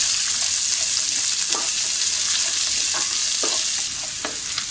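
Chopped onion sizzles steadily in a pan while it is sautéed for tawa pulao, a dense continuous fry with occasional stirring scrapes and no talk.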